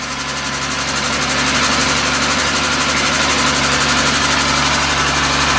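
A Triumph TR250 engine idles steadily after starting, a loud, continuous mid-pitched rumble with faint knocking and vibration, close by and with no talk.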